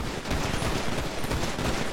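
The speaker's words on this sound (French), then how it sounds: "Allez, tirez en l'air, tirez en l'air." A rapid, dense fusillade of gunshots fired into the air in a role-play video game, a continuous burst of overlapping cracks running loud and unbroken for about two seconds with no talking.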